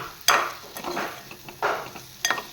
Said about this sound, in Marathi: हा छान तेलामध्ये परतवून घेतली मसाला